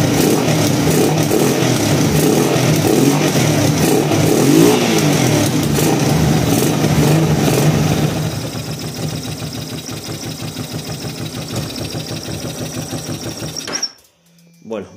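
An engine in a garage starts and revs loudly for several seconds, then settles into a steady, rhythmic ticking idle before cutting off abruptly near the end.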